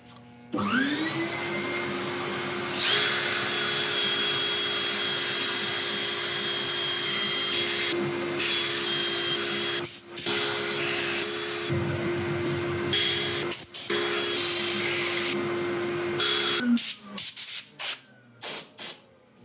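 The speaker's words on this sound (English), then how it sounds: "I'll set up for sanding. I'll let you watch a bit of it" A continuous whirring lathe motor hum with abrasive scratching layered over it as an elm bowl is sanded, running steadily for a long stretch, then stopping in short bursts at the end.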